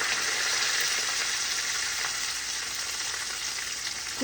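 Curry leaves and green chillies frying in hot oil in a pan, a loud continuous sizzle and crackle that stays even from start to finish with no talking.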